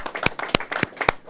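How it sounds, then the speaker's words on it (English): Scattered clapping rings out for young fundraisers at a community gathering, a handful of sharp distinct claps in an uneven rhythm rather than a full ovation. "they deserve a big round of applause for that"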